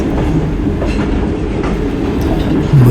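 The Shalimar Express passenger train rolls along the rails on the Karachi to Multan route, its carriage rumbling loudly and steadily with clickety-clack wheel beats. A brief higher tone rises near the end.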